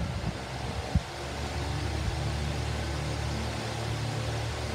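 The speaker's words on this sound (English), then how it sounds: "So here it goes back up to medium." A 1996 Patton U2-20P high-velocity air circulator fan running on medium gives a steady, fairly quiet whir with a low hum, nearby and alone, and a couple of brief knocks early on.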